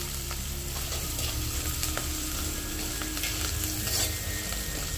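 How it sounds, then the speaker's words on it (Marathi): Green chilies and garlic fry in a pan with a steady, close sizzle and crackle, and occasional scraping from stirring, with no talking. "चला हे बघा छान तळी जात आहे मिरची"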